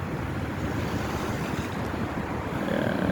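Winter sea waves wash onto the Alexandria beach in a steady, loud roar of surf, mixed with gusting wind buffeting the microphone, with no voices.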